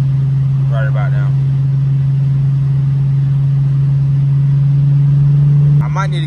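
A Mercedes W210 daily driver cruises on a gloomy day, its engine giving a steady low hum from inside the cabin with faint road noise, while someone talks briefly over it.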